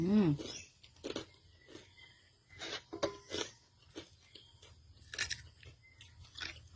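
Close, crisp crunching and chewing of pork cracklings eaten by hand with sticky rice, repeated bites in an irregular rhythm; a voice is heard briefly at the start.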